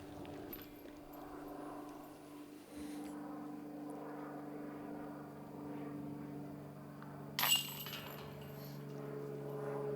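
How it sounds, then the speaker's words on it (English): A private plane flies over a disc golf course during the 2019 GMC final round. Its low propeller drone hums faintly and steadily from a distance, with one brief metallic clink partway through. "that familiar sound. Paul McBeth's private plane flying into the course."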